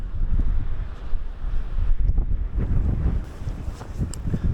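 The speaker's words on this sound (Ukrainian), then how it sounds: "Вітер просто жахливий." Strong winter wind at a pond buffets the microphone in continuous heavy gusts, with a low roaring rumble and a faint sound of water underneath.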